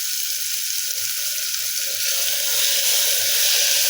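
Ginger garlic paste sizzles and fries with tomatoes in a pan, a steady bright crackle that grows slightly louder toward the end, with faint low clatter of stirring underneath.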